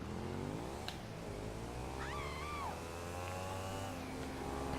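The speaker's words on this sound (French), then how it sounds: "on monte sur la moto et on va chercher le véhicule" A motorcycle rides along in the game GTA 5, its engine a steady drone that shifts pitch as it changes speed, with a brief squeal-like tone partway through and no talking.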